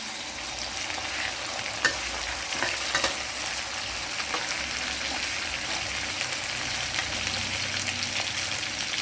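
Shrimp stir-frying with chili and garlic in a pan of leafless water spinach, a steady close sizzle with bursts of stirring and scraping running throughout.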